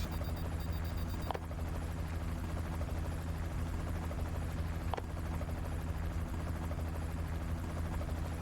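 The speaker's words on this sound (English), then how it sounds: "Comedy helicopter." Helicopter in the video game Final Fantasy VII Ever Crisis, a steady loud rotor and engine drone throughout, broken by two brief sharp transient hits, with no talking.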